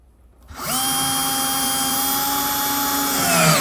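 A power drill whirs up after a brief quiet moment and runs at a steady, loud, high-pitched whine for several seconds, close by.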